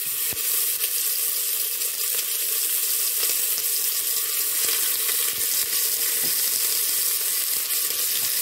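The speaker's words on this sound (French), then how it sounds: "je fais d'abord revenir bien la viande" Meat pieces sizzle and fry steadily in a pot as the first step of Algerian chorba frik, a continuous bright crackle with no talk.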